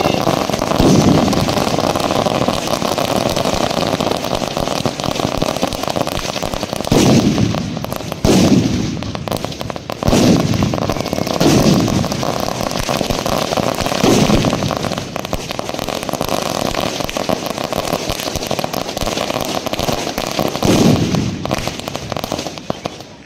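Firecrackers and fireworks go off at a local festival gathering, a continuous loud crackling barrage with repeated bursts and booms, dense and close throughout.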